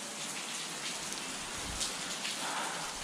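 Steady rain falls outdoors on a college campus, a soft, even hiss of drops hitting surfaces close by, continuous for the whole stretch with no voices.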